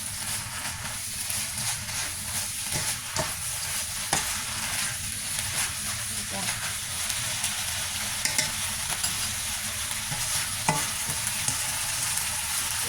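Egg rice-vermicelli noodles stir-fried with aromatics in a hot pan, a steady loud sizzle broken by repeated scraping clicks of the spatula, with no voices.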